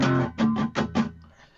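Distorted electric guitar striking a power chord using only its two top notes, a burst of quick chugging strums followed by a short ringing tail, close and loud with no voices.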